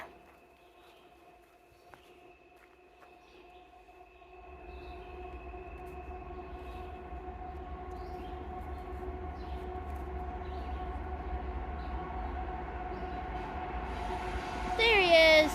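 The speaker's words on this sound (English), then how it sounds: "So we finally got a train, but we can't see it because we're now farther from the tracks." A Union Pacific tanker freight train approaches from a distance, its low rumble steadily building into a sustained heavy roll, with a horn-like tone and a brief screech near the end.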